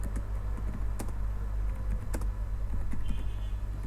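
Keys clatter on a computer keyboard as a question is typed, a quick run of close, crisp taps with short pauses, over a steady low background hum and no talking.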